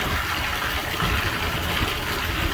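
Water gushes steadily into a trough on a farm, a continuous close rushing and splashing fill with no pauses.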